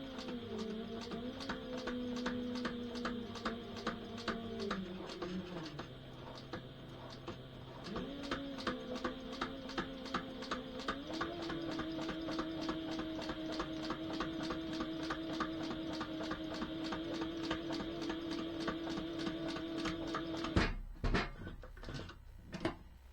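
Sewing machine stitching a pocket on a sailboat dodger, with a rapid, even needle clatter that holds steady for about twenty seconds, pitch shifting slightly as speed changes, then stops with a couple of quiet knocks.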